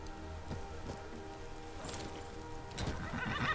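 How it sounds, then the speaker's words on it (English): A horse whinnies in Skyrim Special Edition, a loud neigh with clip-clopping hooves amid steady falling rain in the game world. "I'm going to call my horse"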